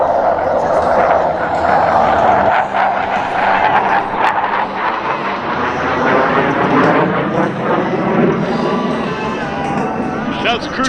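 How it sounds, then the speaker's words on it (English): Panavia Tornado jet flying an aerobatic display, a loud continuous engine roar with a slowly shifting pitch, heard under an announcer talking over a loudspeaker. "As the crew turns the aircraft around high and to your left"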